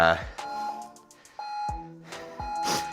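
A workout interval timer for a Tabata leg session gives sharp electronic beeps, several tones in quick succession, close and loud, with a voice talking between them.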